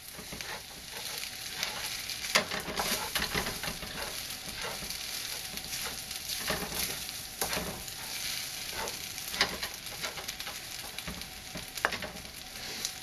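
Korean kimchi fried rice with egg is stirred and tossed in a hot pan, giving a steady, close sizzle with repeated scraping and spatula clacks throughout and no voices.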